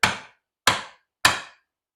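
Three sharp mallet blows strike a narrow wood chisel, each a crisp woody knock with a short ring-out, evenly spaced about half a second apart, close and loud with no talking.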